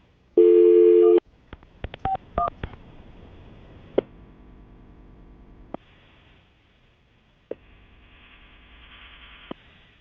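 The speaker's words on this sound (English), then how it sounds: "I'm going to call her right now, okay?" A telephone call is placed: a brief dial tone, then a rapid series of keypad tones, followed by several spaced ringback tones with quiet pauses between them.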